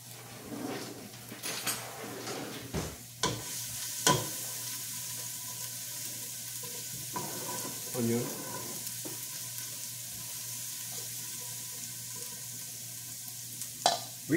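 Garlic and onion frying in a pan for an Italian-style beef bolognese sauce, a steady low sizzle broken by a few sharp scrapes and knocks of stirring, close by with no talk.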